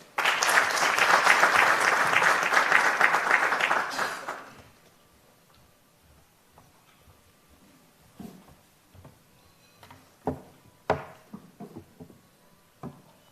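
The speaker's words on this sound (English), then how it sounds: "can we just give Lorna a round of applause?" Conference audience applauds a speaker with dense, steady clapping for about four seconds, then it stops abruptly, leaving a quiet room with a few scattered knocks and handling thumps.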